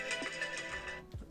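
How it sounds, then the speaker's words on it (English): A phone ringtone chirps in repeated bright electronic pulses for about a second, then cuts off abruptly. "my phone there, sorry"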